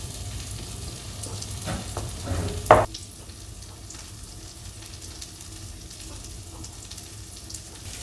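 Peppers and onions sizzling in a pan, a steady soft frying hiss close by, with a brief louder clatter of stirring near the start before settling into a quiet continuous sizzle.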